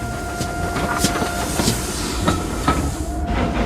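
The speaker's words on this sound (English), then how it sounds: "Meanwhile, James puffed along his route." Wooden toy railway engine rolling along its track, a steady rumbling run with soft rhythmic clicks over the joints, close and continuous with no voices.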